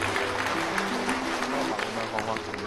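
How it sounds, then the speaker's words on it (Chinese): A studio audience applauds in a dense, continuous patter of clapping, with voices talking over it. "给他掌声鼓励一下"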